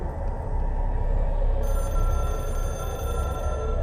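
A telephone rings steadily inside the video game Control, a continuous electronic ringing tone holding over a dense low rumble of game ambience, with a bright high tone joining partway through.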